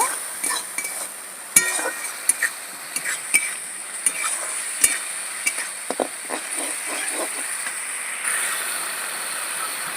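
A water-soaked dried chili powder paste goes into hot oil for rohu fish kalia, giving a continuous sizzle broken by sharp clicks and scrapes of a utensil stirring in the pan.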